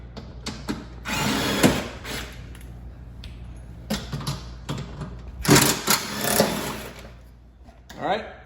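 A power tool spins out the splash shield bolts with a 10 mm socket under a Fiat 500 Abarth, several short buzzing whirring bursts separated by pauses, close and fairly loud, with a voice speaking between them.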